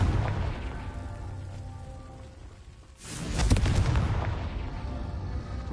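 Confringo fire spell in the Hogwarts Legacy video game: a sharp blast hits at about three seconds and booms, followed by a rumbling, crackling explosion tail over dense game ambience.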